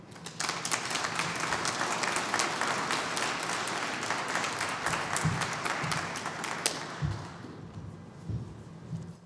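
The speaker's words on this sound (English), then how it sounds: "I think you can all applaud yourselves." An audience at a tenth-anniversary life sciences symposium applauds, sustained clapping from many people that fades and thins toward the end, with a few thuds and scattered last claps.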